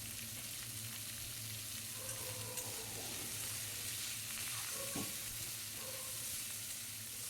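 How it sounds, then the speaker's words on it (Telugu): Garlic, curry leaves and coriander frying in hot oil for a brinjal fry, a steady close sizzle with occasional stirring scrapes and clinks of the pan. "వెల్లుల్లి కరివేపాకు కొత్తిమీరి అన్నీ వేస్తున్నాను నేను"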